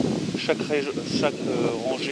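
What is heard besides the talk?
wind blowing outdoors by a wash-house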